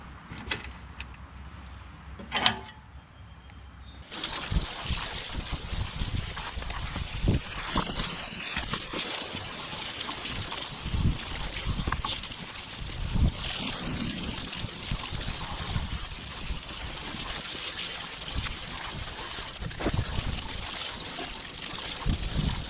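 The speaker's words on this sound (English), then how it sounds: "Now with these off, we're going to go ahead and rinse this deck." A garden hose sprays water over a lawn mower deck during belt repair, a steady broadband rush of rinsing and splashing that fills most of the clip after a brief quiet start.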